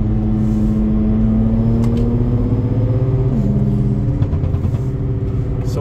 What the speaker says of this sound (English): let me downshift one more.